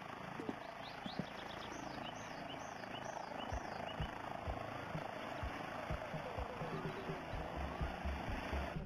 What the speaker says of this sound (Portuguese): Olha lá, o helicóptero decolando.